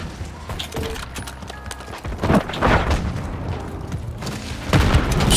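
A grenade goes off during a Black Ops 6 hardpoint match, with heavy booms and sharp bangs mixed with scattered gunfire and footsteps, several loud impacts spread across a few seconds.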